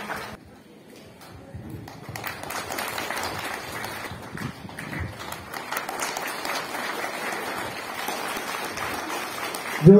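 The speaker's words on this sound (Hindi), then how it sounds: "जोरदार से तालियां" Crowd applause at an outdoor International Labour Day celebration on a grounds in Itanagar, a steady wash of clapping that swells after the first second and holds loud and continuous, with a sharp burst at the very end.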